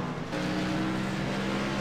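Race car engines from new SS-class cars roar steadily on track during the Phoenix 200 race in Miami, a loud, continuous drone of several engines with no talk.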